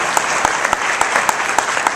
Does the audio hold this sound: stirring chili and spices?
no